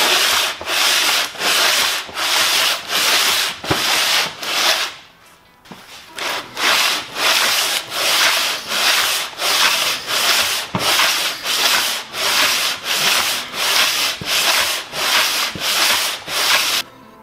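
Cylinder head rubbed by hand back and forth on an abrasive sheet laid on a workbench, a loud rhythmic gritty scraping with even strokes about twice a second and a short pause partway through.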